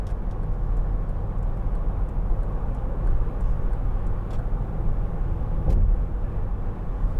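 Cabin noise inside a 2005 Volvo XC90 2.4 diesel cruising at 70 mph: a steady low road and engine rumble with wind hiss, a few faint clicks, no talk.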